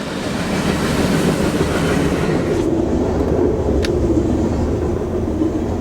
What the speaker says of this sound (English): I can still hear the train out there going by.